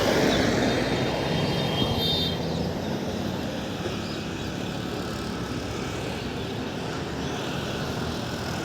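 A smoky vehicle on a road rumbles past with a loud, broad engine roar that is strongest at the start and then fades to a steady, fainter drone as it moves away, with no voices.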